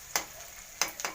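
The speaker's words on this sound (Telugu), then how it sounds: "చూడండి ఈ విధంగా కలుపుకోవాలి." A few quick scraping stirs of sizzling tempering for brinjal curry in a pan, three brief strokes over a steady soft frying hiss, close and fairly quiet with no talk.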